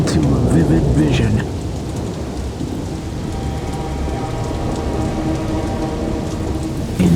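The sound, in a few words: thunderstorm with heavy rain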